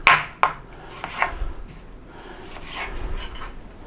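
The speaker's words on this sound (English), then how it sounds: "So, we want to fine dice the onion" Half an onion being finely diced with a knife on a board, a few sharp, close chops at the start that thin out into softer scraping and sliding strokes, with no talking.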